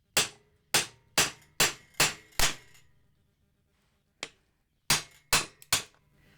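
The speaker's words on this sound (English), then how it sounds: "what I sometimes find works is to get a center punch and just" A center punch struck with a hammer pushes a rivet out on a KTM Duke stock exhaust, making sharp, close metallic taps: a quick run of six, a lone tap after a pause, then four more.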